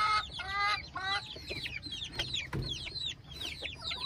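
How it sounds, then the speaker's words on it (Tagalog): Chicks peep continuously on a farm, many high chirps overlapping in quick repeated bursts, with a faint low rumble underneath and no talking. "So tingnan natin yung mga sisiw natin."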